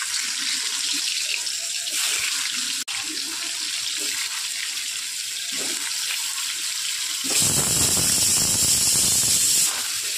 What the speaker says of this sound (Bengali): ওই তেলের মধ্যে আমি কুমড়োটা 5 মিনিটের জন্য ভেজে নেব।